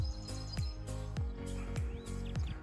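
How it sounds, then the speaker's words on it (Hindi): Faint bird chirps at a nature resort repeat at a steady pace against a low background hum, the calls sounding small and somewhat distant. "सिर्फ चिड़ियों की आवाज़ है"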